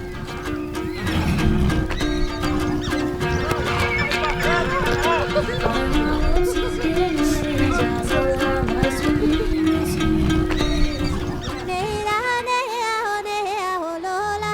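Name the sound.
horses neighing and hooves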